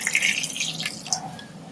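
Cold water poured into a glass of homemade lemon drink made with lemon powder, a steady splashing trickle with small drips, close and alone.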